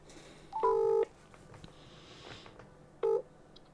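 Two short bursts of telephone keypad dialing tones ring out clearly while a call is placed, separated by a couple of seconds of quiet background.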